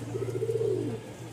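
A Giribaj pigeon at a pigeon market gives one soft, close, rolling coo that lasts about a second over a low steady hum.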